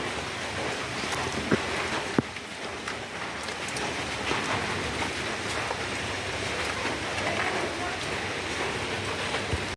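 Rain falls steadily on a dark day in a village, a continuous even hiss with occasional louder drips and taps and no voices.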